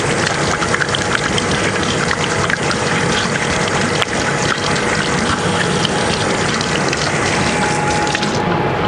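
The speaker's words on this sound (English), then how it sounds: "I'm just going to wash my hands" Tap water gushing loudly and continuously into a sink while hands are washed in a kitchen, a steady close rushing stream with no talk.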